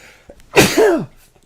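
A single sharp sneeze, close and loud, breaking a quiet moment in a casual podcast recording, with no talk over it.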